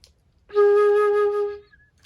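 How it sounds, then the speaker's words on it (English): A single sustained flute note, the woodwind blown across its opening, sounds clear and steady for about a second, alone and close up with no talking. "The flute is a woodwind instrument."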